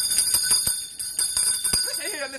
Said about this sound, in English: when you hear that bell, something amazing is about to happen